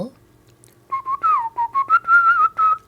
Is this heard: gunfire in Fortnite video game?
no